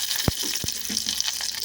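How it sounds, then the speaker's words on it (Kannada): Mustard seeds and curry leaves crackle in hot oil during tempering, a steady sizzle with a few sharp pops close by and no voices. "ಸಾಸಿವೆ ಚಟಪಟ ಆದಮೇಲೆ ಒಗ್ಗರಣೆಗೆ ಕರಿಬೇವು ಹಾಕ್ತಿದ್ದೀನಿ"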